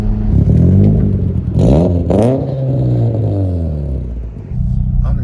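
A 500 whp Mitsubishi Evo X with an N1-style exhaust revs from inside the cabin, its deep, loud engine note rising and falling through several pulls with a gravelly rumble between revs.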